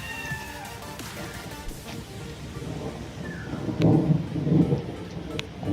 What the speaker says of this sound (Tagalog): Kumukulog na.